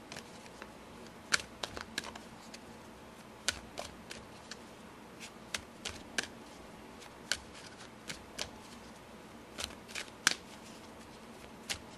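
A deck of oracle cards is shuffled close up, with a steady run of crisp, sharp riffling clicks and soft flutters and nobody speaking.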